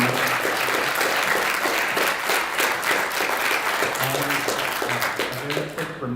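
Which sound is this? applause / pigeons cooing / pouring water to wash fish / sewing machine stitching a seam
applause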